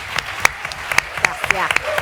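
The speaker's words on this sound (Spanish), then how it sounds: "Un aplauso para Carolina" A small audience at a post-screening discussion applauds Carolina, sparse distinct claps rising and falling in a brief patter while a voice speaks over them.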